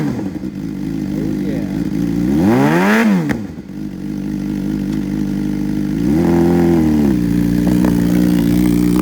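A used 2015 Suzuki GSX-R600 middleweight supersport motorcycle idles nearby with a steady low throb, then blips the throttle in one sharp rev that rises and falls, followed by a second, gentler rise to a faster idle.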